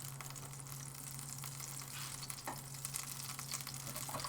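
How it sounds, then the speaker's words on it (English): Tomatoes fry in hot oil in a pan during a full English breakfast cook, giving a steady close sizzle that runs unbroken, with a few brief scrapes and stirs. "now I'm going to flip these tomatoes and crank the heat"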